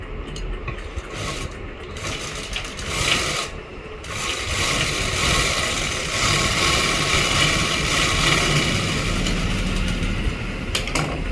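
A sewing machine stitches a palazzo pant pocket with a continuous mechanical whirr and clatter, close and fairly loud, pausing briefly near the start before running steadily.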